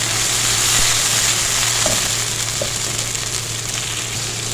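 Ginger garlic paste frying in hot oil for a white chickpea biryani, giving a steady, even sizzle and hiss with a couple of faint pops, close and alone.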